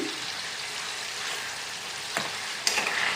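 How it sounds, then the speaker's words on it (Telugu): Chicken pieces fry in peanut oil for a gongura pickle, a steady close sizzle broken by a couple of sharp scrapes as they are stirred in the pan. "ఇలా కలుపుతూ వేపుకోవాలి చక్కగా వేగుతున్నాయి చూడండి"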